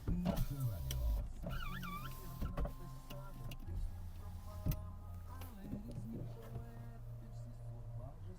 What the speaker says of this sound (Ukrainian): По електриці склопідйомники